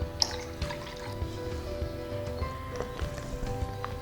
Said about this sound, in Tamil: இப்போ இதில் கொஞ்சம் நம்ம தண்ணி ஆட் பண்ணிக்கலாம்.